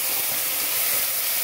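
Chopped onions and tomatoes, with salt, mustard seeds and cumin, sizzle in hot oil in a pan: a loud, continuous hissing fry with no gaps and no voices.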